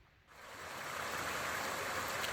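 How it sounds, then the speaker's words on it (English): Water rushes down a roadside waterfall, swelling in after a brief quieter moment into a steady, moderately loud splashing hiss. "Here's another one of those roadside, I guess you call it a waterfall"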